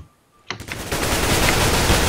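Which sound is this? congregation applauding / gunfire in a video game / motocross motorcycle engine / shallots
gunfire in a video game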